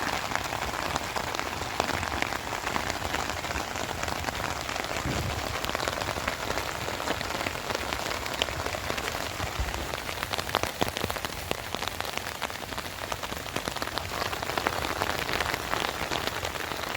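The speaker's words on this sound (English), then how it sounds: "Well, I was gonna scout and it started raining." Rain drums steadily on a camp shelter during a hog hunt at a wildlife management area, a close, dense patter with scattered louder drops that never lets up.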